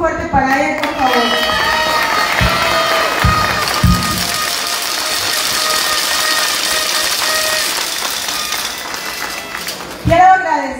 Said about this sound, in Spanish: Un aplauso muy fuerte para él, por favor.